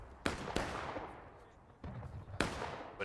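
Musket volleys in War of Rights, a 300-player American Civil War battle on Bolivar Heights: several sharp, distant-to-mid range shots crack out in irregular bursts over a steady battlefield rumble, each with a trailing decay.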